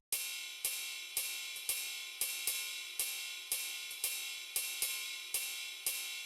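A drum sample shaped by many notch EQs into a metallic, ride-cymbal-like tone strikes steadily about a dozen times in an even pulse, each hit bright and hissy with a quick decay, alone and fairly quiet.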